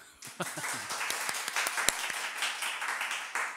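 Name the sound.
church congregation applause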